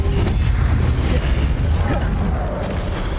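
A Confringo blasting spell from Hogwarts Legacy on Nintendo Switch erupts in a heavy, rumbling explosion that fills the whole moment with sustained low booming noise.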